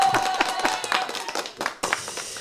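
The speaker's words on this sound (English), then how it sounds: "I'm going to give myself applause." A short burst of hand clapping, fairly close and brisk, lasting a couple of seconds.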